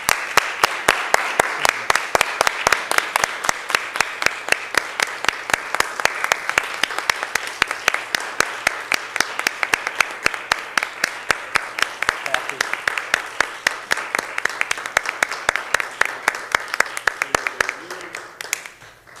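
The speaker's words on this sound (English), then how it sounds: "I think we all owe them our thanks and a round of applause for all the work that they've done this past summer." A long, steady round of applause for school staff at a board of education meeting, many hands clapping in a fairly regular rhythm for nearly twenty seconds before tapering off.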